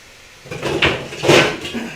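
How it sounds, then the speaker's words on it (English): A lid is set down onto a cooking pot on the stove, giving a couple of close clattering knocks within about a second, with no talk. "I'm going to put a lid on it just so"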